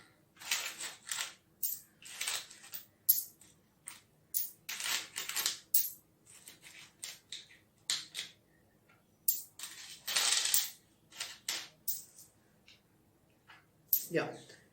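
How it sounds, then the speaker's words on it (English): Coins drop one at a time into a glass during a science experiment, each landing as a short, bright metallic clink, with irregular pauses between them and a brief voice near the end. "And I'll add one coin."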